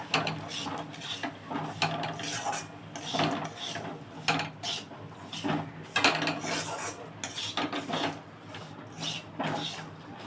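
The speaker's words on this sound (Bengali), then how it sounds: "সুজিটা দিচ্ছি আচ্ছা আমি এবারে এটা একটু নাড়বো" A spoon stirs semolina with ghee and dry fruits in a pot, giving repeated scraping and clinking strokes against the metal in an irregular rhythm, with faint background noise and no speech.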